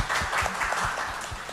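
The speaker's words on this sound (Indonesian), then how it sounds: "Boleh saya minta tepuk tangan untuk kita semua?" Brief burst of applause from the audience at an Indonesian Independence Day press conference at the Presidential Office, a short, even spatter of many hands clapping at moderate level.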